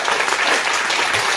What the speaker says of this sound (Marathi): त्याच्यासाठी त्याला एकदा जोरदार टाळ्या देऊन शुभेच्छा देऊया.